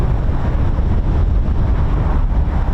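Loud, blustery wind roars and buffets against the microphone throughout at an RAF airfield, a dense constant rush with no voices.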